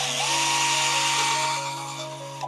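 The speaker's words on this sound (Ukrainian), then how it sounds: "Далі просверлюємо отвір зверху." A power drill bores a hole above a window to mount a curtain, a close, steady high-pitched whine that tapers off at the end.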